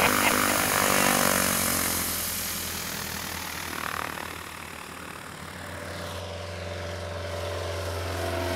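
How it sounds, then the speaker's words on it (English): Steady propeller airplane engine drone throughout, a loud continuous hum with harmonic bands that swells slightly and then holds, with no talking. "Shouldn't even be flying this plane right now."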